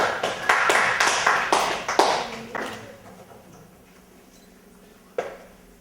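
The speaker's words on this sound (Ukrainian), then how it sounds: "Аплодисменты!" A small audience at a school shooting competition claps for the best shooter of 2016, a few seconds of brisk, uneven applause that dies away into near silence, with one late clap.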